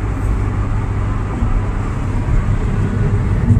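A turbocharged car cruises in sixth gear at about 75 to 80 mph on a highway, giving a steady, loud low engine and road drone that holds evenly throughout with no talking.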